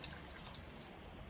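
A cup of water is poured into an Instant Pot for lentil curry, a short soft splash and trickle of liquid with no talking.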